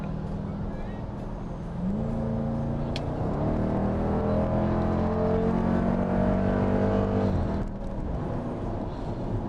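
A 2018 Dodge Durango SRT accelerating hard in sport mode, its engine note climbing through the gears with audible shift steps, a steady loud cabin roar throughout.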